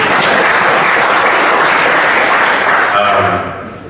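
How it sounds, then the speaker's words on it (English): Loud, dense applause from a conference audience at a tech talk, sustained clapping that tapers off near the end while a voice speaks briefly over it. "A round of applause,"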